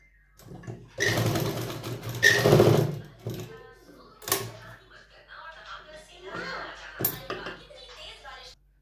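A domestic sewing machine stitches salwar fabric in a short whirring burst followed by a second longer run, with a few clicks and soft handling noises; someone talks between the bursts.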